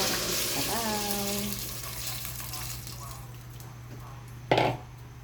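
Water is poured into a pan of simmering sponge gourd (patola), producing a sizzling, bubbling rush that fades to a quieter simmer, with a sharp clink near the end.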